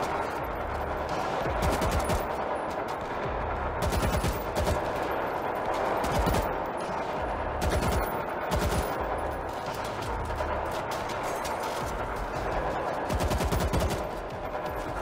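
Rapid automatic gunfire in the World War Z zombie shooter fires in long, dense bursts with barely a break, loud and continuous from start to finish.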